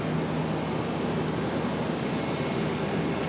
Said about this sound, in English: Got SkyWest 5216 coming in from Chicago O'Hare, the E175 LR